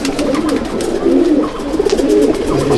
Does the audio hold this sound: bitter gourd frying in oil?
no